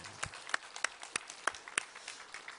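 A handful of sharp, scattered claps ring out briefly at a New Year's church service, light and irregular rather than a full ovation.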